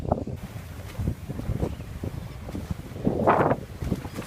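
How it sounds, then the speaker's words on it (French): A sailboat crossing the Pacific in rough seas under a genoa alone, with steady wind buffeting the microphone, water sloshing against the hull and a louder wave surge near the end, no voices. "La mer est toujours aussi déchaînée, on est très secoué."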